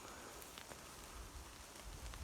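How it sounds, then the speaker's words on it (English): Steady rain pattering through a forest canopy, a continuous close hiss of drops on leaves and ground with no talk over it. "Oh, the rain's picking up."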